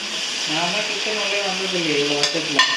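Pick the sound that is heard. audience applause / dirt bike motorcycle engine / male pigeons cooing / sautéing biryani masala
sautéing biryani masala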